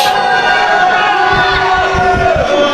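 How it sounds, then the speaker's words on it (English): A wrestling crowd at a UK Pitbulls tag match reacts with loud, dense booing and jeering after a knife edge chop from Jackson Arrow, a sustained roar of voices filling the hall throughout. "The crowd not very happy about that knife edge chop from Jackson Arrow there"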